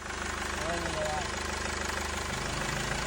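The 2.2 CDI diesel engine of a 2002 Mercedes E-Class W211 idles close by with a steady low knocking rumble, and a voice can be heard faintly under the noise.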